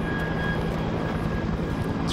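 Helicopter flying in an alien horror game, a steady droning engine and rotor hum held loud and constant throughout, with no talk over it.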